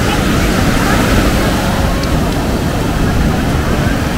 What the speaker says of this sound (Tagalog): Sobrang maalon.